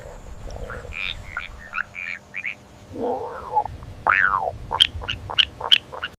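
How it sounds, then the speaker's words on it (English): A leopard frog croaks in low, rattling, gurgling calls, with higher chirps and clicks coming in short bursts toward the end. "It's a leopard frog."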